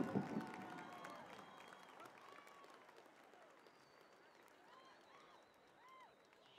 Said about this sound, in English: Let's give another round of applause for Hui Lee, our soloist